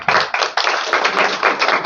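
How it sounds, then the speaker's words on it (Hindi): Dense applause from a crowd at a political party gathering in Patna, welcoming Khushbu as a new spokesperson; steady loud clapping with a few bursts, continuous across the moment. "एक बार खुशबू के लिए जोरदार तालियां"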